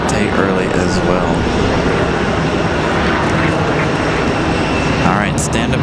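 An airliner lifts off from Raleigh-Durham International Airport on a windy day, making a loud, steady jet roar that stays strong and unbroken throughout.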